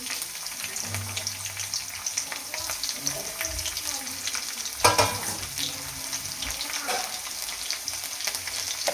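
Garlic, mustard seeds and cumin fry in hot oil for a tempering, a loud continuous sizzle and spatter with stirring scrapes, and one sharper burst midway; a voice is briefly heard early on.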